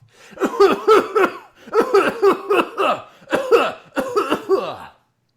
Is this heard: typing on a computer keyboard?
no